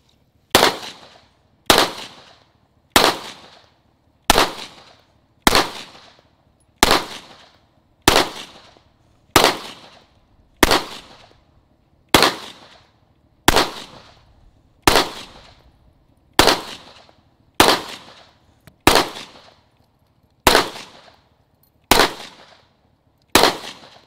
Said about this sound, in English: I'm gonna shoot the BC-20 X carry.